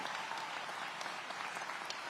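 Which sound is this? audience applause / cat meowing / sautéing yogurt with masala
audience applause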